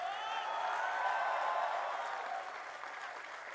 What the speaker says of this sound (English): let us give a big round of applause to your family and loved ones